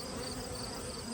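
Honeybee worker bees buzzing at the hive during a nectar dearth, a dense steady hum filling the whole short moment, close and continuous with no pauses and no talk.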